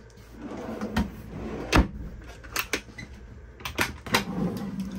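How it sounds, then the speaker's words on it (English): A slide-out pantry drawer in a 2023 Roadtrek Zion Class B camper van rolls open with a few soft clunks and sliding rumbles, close by, in a quiet room. "We have this really nice slide out pantry here."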